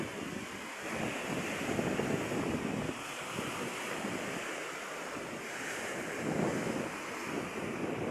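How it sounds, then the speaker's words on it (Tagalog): Rough sea surf rolls and crashes on the shore in a steady, loud wash of noise. Wind buffets the microphone, and no one speaks. "Sarap sana maligo kaso maalon pa rin."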